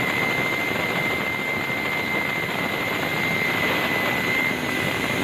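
A steady, loud helicopter drone with constant rotor and engine noise, close and continuous, with a thin high whine on top, above a helipad at an Antarctic research station.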